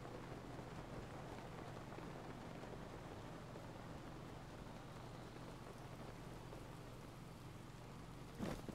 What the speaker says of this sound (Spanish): Claro, que también está lloviendo.